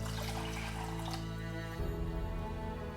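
Water poured from a cup onto a pot of sushi rice, a steady close pour that shifts pitch partway through as the level rises, heard alone with no talk.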